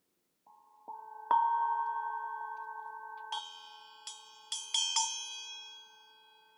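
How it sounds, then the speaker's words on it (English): A small Paiste cup chime cymbal is struck several times, its bright, bell-like tones ringing and layering with long sustained decay, the later strikes sharper and higher, heard close with no talk. "little cymbal I had from last week, which was this one, right? The Peisty cup chime."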